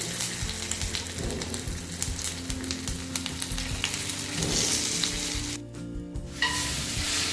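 Bottle gourd muthiya dumplings fry in a pan with a loud, steady sizzle and crackle, joined by scattered clinks and a brief watery hiss near the end.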